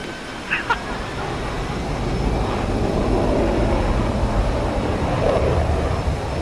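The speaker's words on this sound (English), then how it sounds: "I love when they throttle out of it, the engine gets so loud." Jet aircraft engine in the combat flight simulator DCS World, a steady loud broadband roar that swells and holds throughout, with brief speech-like bursts near the start.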